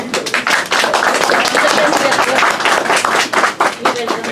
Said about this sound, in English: Huge claps, please.